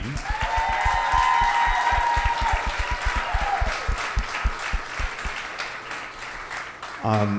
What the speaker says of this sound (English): let's give a round of applause for Mikey Tableman